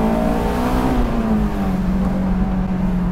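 A Honda S2000 engine revs hard toward high RPM, a loud, steady high-pitched scream that holds and climbs slightly across the clip with no talking.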